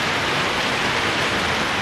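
Steady heavy rainfall at a summer mountain destination, a dense, even hiss that goes on without any break and with no voices.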